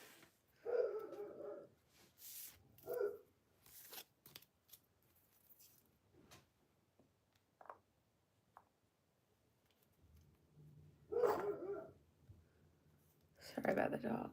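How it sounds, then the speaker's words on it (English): A dog barks in short separate bursts, one at the start and a couple more later, loud and near, with quiet stretches and some handling clicks between them. "Sorry about the dog."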